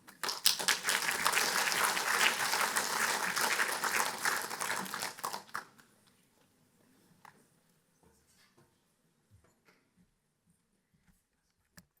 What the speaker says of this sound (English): Let's give them both one more big round of applause.